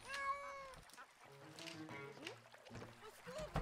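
A cat meowing in the heist game Monaco, a short high mew near the start followed by game sounds and voices talking over the action.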